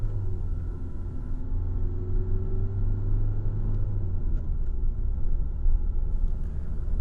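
Steady low engine rumble and road noise from a Hyundai Creta SX diesel on the move, a continuous drone with no talk, heard from inside the car.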